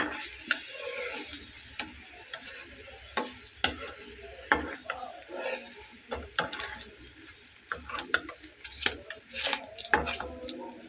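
Keema bun paratha frying in very little oil, with a crackly sizzle under repeated scraping and tapping of a spatula against the pan, irregular and close.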